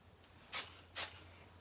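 Two short, bright hissing sprays from an aerosol can, about half a second apart, close by, with quiet background between them.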